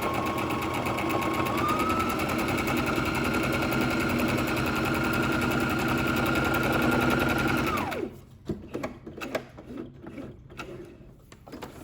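A home sewing machine top stitches a home-sewn fabric mask, running in a loud steady mechanical whir for about eight seconds before stopping, followed by scattered clicks and handling noises.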